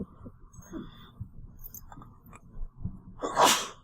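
One sharp, sudden sneeze bursts out near the end, loud and close, after a few quiet seconds of faint clicks and low room noise in a hall during a photography image competition.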